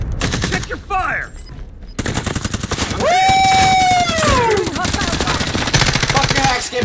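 Rapid automatic gunfire in Call of Duty Warzone, loud bursts of machine-gun fire with a rising and falling whistling tone in the middle, along with game effects and voices from the squad.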